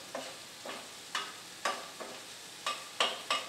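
Lamb and peppers cooking in a pan with seasoning, a soft sizzle broken by a steady series of about eight stirring scrapes spaced roughly half a second apart, close and moderately quiet, with no voices.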